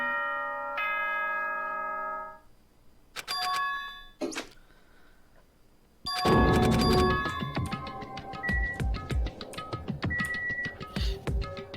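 Tonal electronic chime announcement from the video game Danganronpa 2, a ringing multi-note ding-dong sequence followed by a jaunty musical jingle, played alone and fairly loud.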